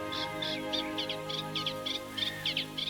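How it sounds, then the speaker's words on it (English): A reed warbler sings from a British reed bed, a steady run of chattering, scratchy phrases repeated in quick rhythm, close and clear above a faint low background hum. "Deep in our British reed beds, there's a secretive bird that's found the ultimate hiding place."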